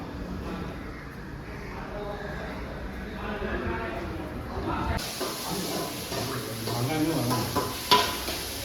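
Tomatoes and onions are cooked in a pan on a trip to Pondicherry with friends: a soft sizzle and hiss with stirring and pan clatter, a sharper hiss partway through, while people talk over it.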